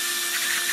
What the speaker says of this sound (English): Laser drill.